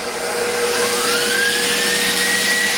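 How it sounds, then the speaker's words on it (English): A KitchenAid stand mixer with the whisk attachment running steadily on heavy cream with sugar and vanilla, giving a loud, continuous motor whir with a slowly rising whine and no talking. "Putting it in my KitchenAid with the whisk attachment, and I'm just gonna whisk it up"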